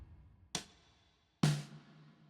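Two separate drum kit hits from a studio-recorded kit, each a sharp crack with a long reverb tail, spaced about a second apart and fairly quiet, with no talking.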